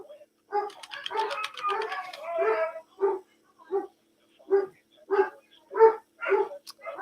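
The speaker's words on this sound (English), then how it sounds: "Sorry for my dogs." Several dogs bark indoors in a loud, rapid cluster, then keep going with spaced single barks and yips, close and fairly loud.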